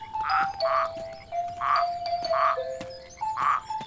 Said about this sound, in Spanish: ¡Hay una rana!